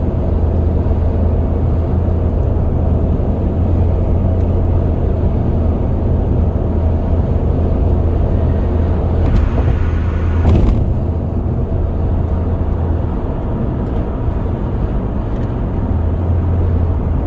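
Inside a 2004 Pontiac Vibe, a steady low engine drone and road rumble run throughout, swelling slightly as the engine is given gas, with a brief clunk midway and no talking.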